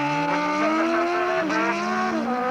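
Drag racing motorcycles launch down the quarter mile at Snetterton, engines screaming upward in pitch, with a sharp gear change midway before the whine climbs again, loud and close.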